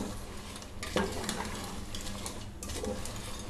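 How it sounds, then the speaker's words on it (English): A spoon stirs thick jaggery syrup in a pan over a high flame, giving a steady scraping and bubbling texture with a few sharper scrapes against the pan and no talk. "stir the jaggery like this."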